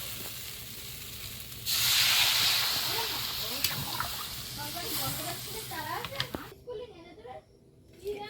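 Water poured into a hot pan of browned, simmering curry bursts into a loud hiss and sizzle, then settles into bubbling as people talk nearby.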